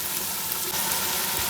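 Spices frying in a pan, ground chili and salt among them, for a Yakhni pulao. The sizzle is steady, dense and close, with no voices.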